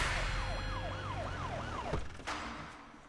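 Ambulance siren wailing in repeated rising and falling sweeps over traffic rumble, loud and close at first, then breaking off into road noise.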